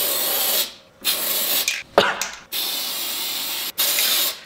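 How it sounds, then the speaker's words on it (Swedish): An aerosol spray can painting a banana peel blue: several loud, close hissing bursts separated by short pauses, with faint voices in the background. "Så jag tänker att vi sprayar bananen blå."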